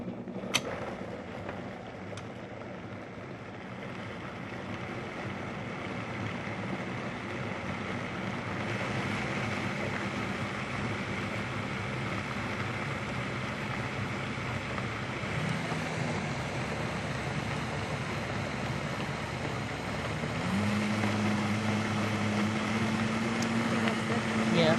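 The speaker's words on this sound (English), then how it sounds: "We're going to give this a whirl and blend it until it's smooth." Salad dressing churns in a blender, a steady broadband whir running the whole time with the motor pitch rising near the end, while people talk over it.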